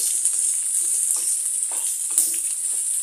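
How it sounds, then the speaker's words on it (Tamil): Pumpkin pieces fry in hot oil while being stirred, a constant bright sizzle with soft scraping strokes from the spoon, close and steady with no talking. "வெட்டி வச்சுருக்கோம் இல்லை பூசணிக்காய், அதை போட்டுக்கோங்க. போட்டுட்டு நல்லா அந்த ஆயில் எல்லாம் நல்ல இதாக வேக நல்லா கிளறி விட்டுட்டு"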